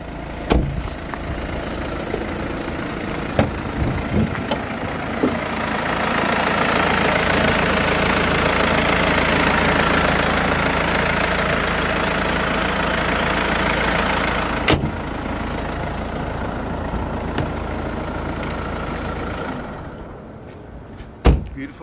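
A used Mercedes idles with its bonnet open, giving a steady, close engine rumble. Sharp thumps and clunks of the bonnet and doors cut in near the start, mid-way and at the end.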